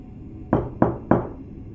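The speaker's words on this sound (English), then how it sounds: "3 sharp raps on my front door." Three sharp, evenly spaced knocks on a front door at night, close and loud against a quiet background, each a single firm rap.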